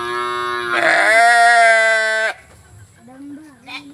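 A sheep bleats loudly and long, a strong wavering tone lasting about two seconds, followed by softer, shorter bleats and a person talking nearby on a farm.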